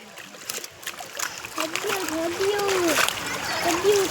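Water splashing and sloshing continuously as someone wades through a cold river, with children's voices calling out over the noise.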